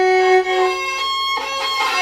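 A bowed string instrument sustains a buzzy, muffled double stop, one string muted by a badly arched finger, giving a dull, choked tone for about two seconds alone.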